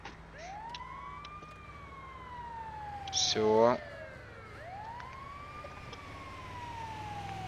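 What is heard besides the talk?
ambulance siren in video game GTA 5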